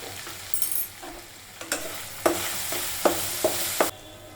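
Spices being stirred into a tuna fish curry frying in a pan, with a steady low sizzle broken by a series of sharp scraping strokes of the spoon, close and moderately loud, no voices.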